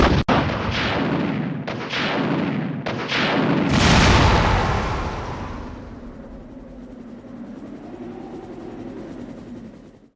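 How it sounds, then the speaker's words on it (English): Rocket launcher fired at the Tyrant in the Resident Evil video game: a few sharp blasts, then a huge booming explosion that rolls and fades into a long low rumble, loud and heard alone. "I run up, grab the rocket launcher, aim it at the tyrant, then..."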